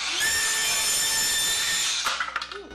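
A DeWalt Atomic 4.5-inch cordless circular saw whines steadily and close through plywood for about two seconds, then spins down with a few rattling clunks as the cut ends.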